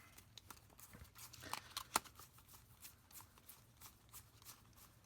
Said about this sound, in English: So I'll shuffle this up.